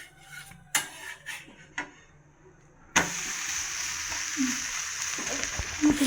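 Chicken dosa frying in oil on a hot pan: a steady, loud sizzle starts suddenly partway through and keeps going, after a few earlier scattered clinks and light knocks.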